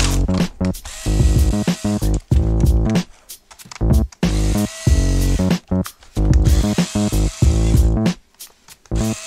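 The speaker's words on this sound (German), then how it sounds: "Ich löse die Schrauben." A power driver backs out screws from an Audi TT 8N display unit in loud, repeated whirring bursts with short pauses between them, close and up front.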